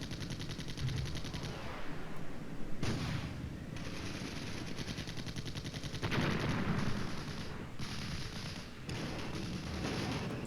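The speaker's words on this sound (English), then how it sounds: "all those machine gun shots is exactly what's going out towards the enemy" Sustained machine gun fire from the Flashpoint Campaigns Red Storm war game, an urban defense battle against BMPs and tanks: loud, rapid bursts of automatic gunfire that continue almost without pause, with brief gaps between volleys.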